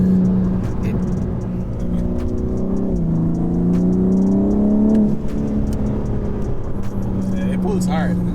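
A 2021 BMW G82 M4 Competition accelerates hard from inside the cabin, its engine droning steadily with rising pitch and a brief dip as it shifts, while people talk over the noise.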